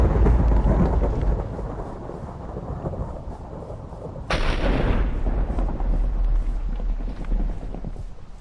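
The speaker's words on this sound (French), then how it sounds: "Putain, mais ça va les éclairs?" Thunder rolls through a Minecraft lightning storm over steady rain, a loud crack and rumble arriving about halfway through and swelling the continuous noise.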